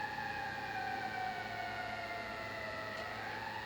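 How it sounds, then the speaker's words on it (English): Wailing sirens rise and fall in the distance, steady and faint, with no voices. "Every fucking day you hear sirens."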